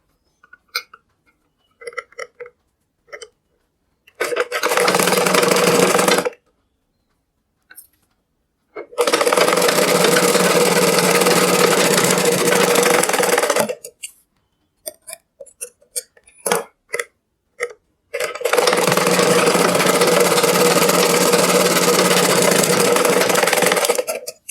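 A sewing machine runs through three sustained stitching passes along a petticoat seam, the longest lasting several seconds, each separated by quiet pauses broken only by small clicks and taps.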